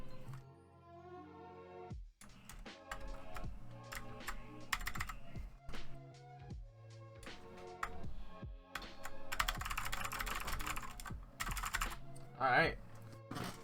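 An Anne Pro 2 keyboard being typed on, with irregular runs of crisp key clicks and some denser bursts, close and clear.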